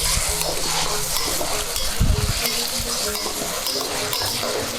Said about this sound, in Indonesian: Nah, ini minyaknya udah panas, kita masukin sambalnya. Dian, aduk-aduk Dian.